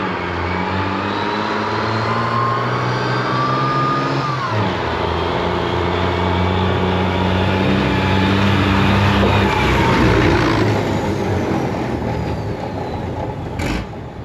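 A tank's engine idles after starting, loud and close, with a steady low rumble and droning tones, one brief pitch shift early on, then a constant running roar.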